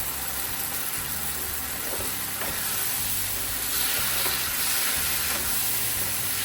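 Spices fried with cashew and almond paste in a pan produce a continuous close hiss and sizzle with faint scraping of stirring, steady throughout with no talk.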